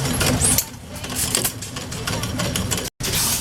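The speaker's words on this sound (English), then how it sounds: "this is where the hit and miss engines are every year" A hit and miss engine runs at a steam show, giving a steady mechanical chugging with a busy, rattling rhythm at close range amid outdoor noise.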